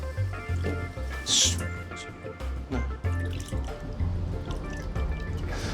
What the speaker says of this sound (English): So we keep putting water in until the water covers the plate basically.